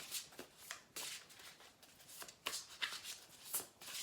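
Cards riffle and shuffle in repeated quick bursts, close and crisp, with short pauses between each shuffle.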